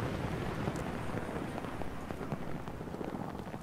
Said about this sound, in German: Es regnet so schön.